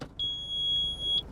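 A single sustained high-pitched electronic warning beep inside a Toyota Hilux Rogue pickup, lasting about a second, sharp and clear over a low engine hum.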